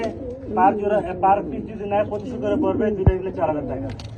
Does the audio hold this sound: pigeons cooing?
yes